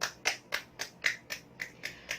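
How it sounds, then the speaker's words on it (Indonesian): A single person claps hands at a steady, even tempo, about eight crisp claps in a row, fairly close and moderately loud, during an online Japanese grammar class. "Tepuk tangannya dulu."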